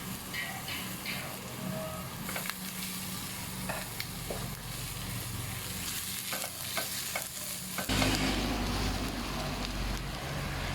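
Garlic sizzles and crackles steadily in a hot pan, stirred now and then with scraping clatters, the frying growing louder and brighter toward the end.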